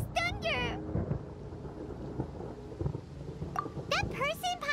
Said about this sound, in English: Paimon used thunder!